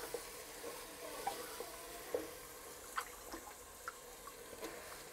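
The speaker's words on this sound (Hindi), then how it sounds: "अब इसमें ऐड कर देंगे हम मेथी और इसको भून लेंगे थोड़ी देर के लिए।" Fenugreek leaves, peas and potatoes frying in a pan for gajar matar aloo sabzi, a soft low sizzle with scattered light ticks and pops from stirring, faint and with no voices.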